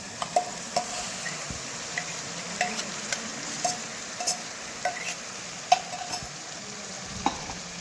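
Onion-tomato gravy for Kathiyawadi-style dum aloo simmers in a hot pan with a soft, continuous sizzle, while a spoon stirs and taps the pan in light, regular knocks; no one speaks.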